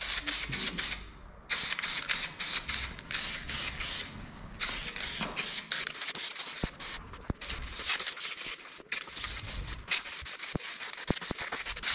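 An aerosol can sprays Raptor protective coating onto a custom roof rack for a Nissan Patrol Y62. Long, loud hissing bursts with short pauses between them are punctuated by a few sharp clicks near the end.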